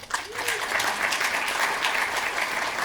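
An audience at a book launch event breaks into applause to welcome a speaker, a dense sustained clapping that starts abruptly and continues evenly, moderately close.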